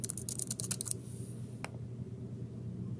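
A password is typed on a computer keyboard, a quick burst of close, light key clicks for about a second, followed by a single tap and then quiet room tone.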